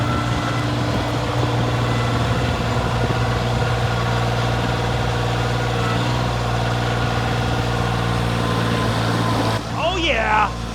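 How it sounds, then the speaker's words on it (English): A Kioti tractor with a backhoe attachment idles steadily with a low, even diesel drone throughout, close by and loud, then cuts off abruptly near the end as a brief voice is heard. "I think I need to reposition the tractor though."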